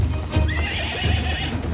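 A horse steps steadily along a mountain trail, hooves clip-clopping in a close, regular rhythm, with a brief whinny rising above the hoofbeats.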